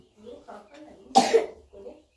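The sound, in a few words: cough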